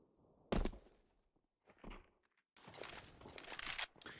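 Footsteps in Counter-Strike on the map Nuke, heard as a few muffled thuds and crunchy, scuffing bursts that come and go, with a longer run of steps at the end and no talking.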